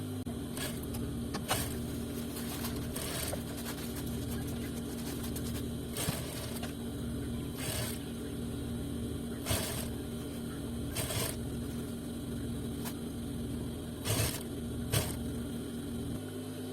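A tailoring sewing machine stitches along the fabric edge while sewing elastic into an Afghani salwar, giving a steady close motor hum broken by sharp clicks every second or so.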